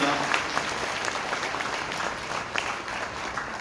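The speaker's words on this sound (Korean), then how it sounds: "큰 박수 부탁드립니다." Applause from guests at a wedding ceremony, steady sustained clapping from a sizable crowd filling the room throughout, with faint voices underneath.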